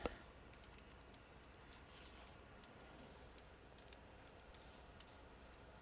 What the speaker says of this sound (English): Oh man, stop typing.